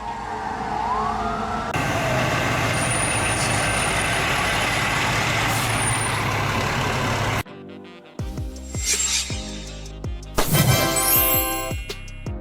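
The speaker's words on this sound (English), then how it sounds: "Urban Search and Rescue Vehicle, used in building collapses, earthquakes, or large fires where people are trapped" An urban search and rescue fire vehicle, used at building collapses, earthquakes and large fires, sounds its loud wailing siren with a truck engine rumble underneath, then switches to sharp rapid yelping and air-horn-like blasts.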